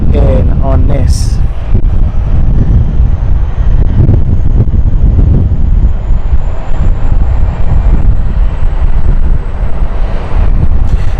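Aircraft engines spool up at London City Airport ahead of a Luxembourg departure, a steady broad roar heard at a distance and buffeted by wind noise on the microphone, with a brief high whine early on.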